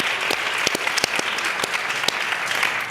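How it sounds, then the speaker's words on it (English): A room of people at a Women in Business event breaks into applause, a steady wash of clapping with some sharp, close individual claps that carries through the whole stretch without talk. "Can we just applaud that?"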